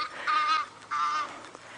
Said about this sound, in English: You might be able to hear the Egyptian geese squawking at us.